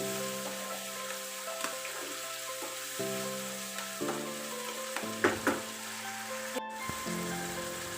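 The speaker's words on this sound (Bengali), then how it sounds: "এখন মোটামুটি আমার মশলাগুলো ভালো করে কষে নিচ্ছি আমি।" Spice paste frying in oil in a home kitchen pan, a soft steady sizzle with occasional stirring scrapes and taps, faint and close, with no talking.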